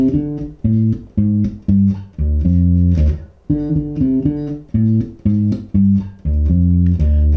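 A bass guitar plays a riff built on the D blues scale, as a loud, repeating riff of short, punchy low notes heard alone with no talking.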